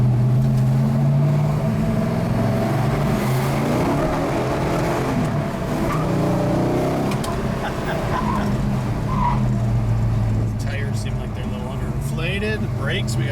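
Tires of a 1969 Dodge Charger Daytona 426 Hemi squeal and skid on Southport Avenue over a loud engine roar, with voices talking across the noise.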